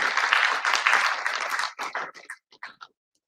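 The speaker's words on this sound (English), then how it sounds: "Let us give him a big round of applause as he takes his seat." Audience applause at a university ceremony as a guest takes his seat: a burst of crowd clapping that thins out into scattered individual claps and stops.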